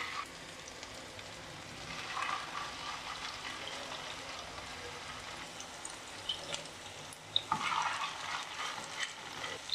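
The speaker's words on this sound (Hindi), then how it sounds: "ऑयल गर्म हो चुका है, अब इसमें एक एक करके कबाब डालेंगे।" Chicken malai kababs fry in hot oil in a pan over a medium flame, giving a steady, fairly quiet sizzle and crackle with a few louder pops near the end.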